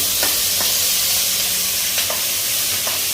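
Beans fry in a hot pan with a loud, dense, continuous sizzle, and brief scraping strokes of stirring cut through it a few times.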